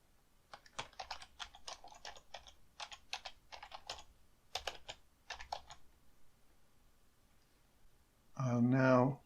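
Keyboard typing on a computer while entering title text in video editing software, a run of quick irregular key clicks at moderate level, broken by a short pause and ending in a louder burst of noise.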